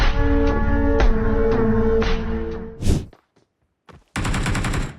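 Gunfire in the video game PUBG Mobile: a rapid burst of rhythmic shots over an ongoing hum, a sharp louder crack, a brief silence, then dense firing resumes, close and loud.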